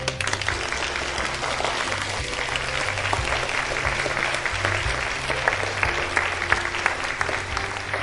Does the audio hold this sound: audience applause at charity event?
yes